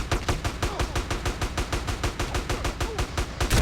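Rapid video game gunfire bursts in an evenly spaced, driving rhythm, loud and close, with sharp repeated shots and no talking.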